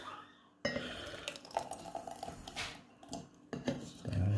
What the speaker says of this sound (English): Right, so let's pour it in.